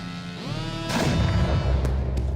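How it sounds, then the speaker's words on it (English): Fireworks in the Noita video game: a rumbling burst of explosive crackle that swells partway through and holds, with a couple of sharp pops near the end, all loud and continuous. "Fireworks,"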